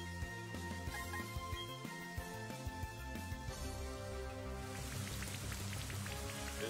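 Steady rain hiss from the Rain Dance move in a Pokemon Diamond/Pearl-style video game plays over looping game music, with the rain holding even and fairly quiet throughout.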